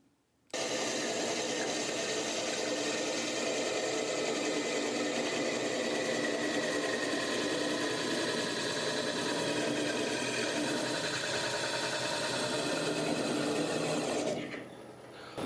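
A lathe spins an apple wood vase while a parting tool cuts it off, a steady, even mechanical whir holding for about fourteen seconds before it drops away.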